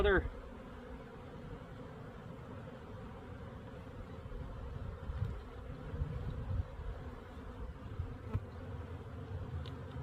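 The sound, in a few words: honeybees buzzing while a hive is split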